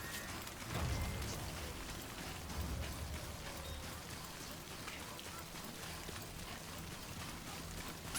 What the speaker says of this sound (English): Definite perpetual rain here.